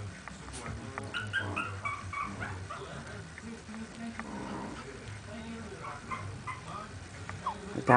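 Chihuahua puppies whimper and yip in a series of thin, high cries, mixed with soft murmuring voices close by.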